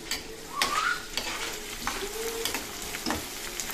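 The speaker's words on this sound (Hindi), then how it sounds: "अभी गोंद को इसमें डीप फ्राई करेंगे और देखना फूल के" Edible gum (gond) deep frying in hot oil in a home kitchen while laddoos are being made, giving a steady crackling sizzle with brief stirring clatters throughout.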